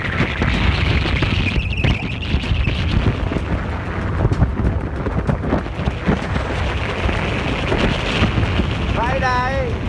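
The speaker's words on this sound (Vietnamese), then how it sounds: "Gió to khiếp." Strong wind roars and buffets the microphone nonstop on a boat trip to Co To island, a loud, unbroken rush.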